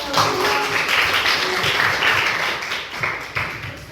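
Classroom audience applauding a student group after its presentation during an academic supervision session, a steady, dense patter of many hands at moderate loudness, lasting several seconds.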